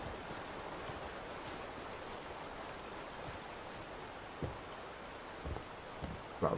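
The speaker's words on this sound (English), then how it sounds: "Like the little burbling water sound." Gentle burbling of water in a video game, a steady soft wash like a stream or light rain running throughout, with a few small knocks near the end.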